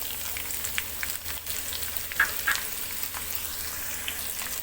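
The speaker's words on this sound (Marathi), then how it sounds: "कांदा लालसर होईपर्यंत भाजून घेऊया" Onion with curry leaves and cumin frying in a pan, a steady low sizzle running throughout with a few brief crackles and pops rising above it.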